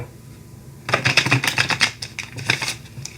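A tarot deck gets a quick shuffle, a burst of crisp riffling card flutters starting after a brief quiet pause and continuing in rapid, close, uneven snaps.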